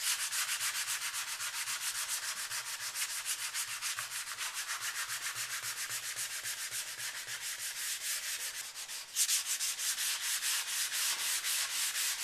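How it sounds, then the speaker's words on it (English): Hand sanding of a water-based finish on an electric guitar body, a continuous close rhythmic scratchy rubbing with rapid back-and-forth strokes and a short pause near the end. "So by sanding those, I've taken off a little bit of the red dye."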